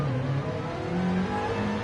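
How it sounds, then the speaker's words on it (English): A Subaru WRX boxer engine revs in Gran Turismo 7, a continuous gruff, rumbling drone with rising and falling pitch, close and steady throughout. "That grunt from the Subaru engine."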